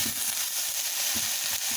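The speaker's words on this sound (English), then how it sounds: "Sorry for my pan swirling around." Eggs and instant noodles fry in a pan swirled on the stove, a continuous close sizzle with soft scraping and shuffling bumps as the pan moves.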